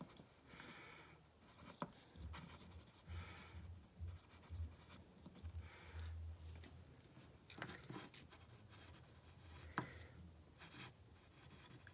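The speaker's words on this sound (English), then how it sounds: "And then over here, you sign your name." A name is signed by hand on a block print, with soft pen or pencil scratches and strokes coming in short bursts, quiet and close, with no talking.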